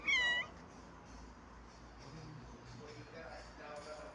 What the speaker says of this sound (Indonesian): Kucing beranak. Ini di pangkuan.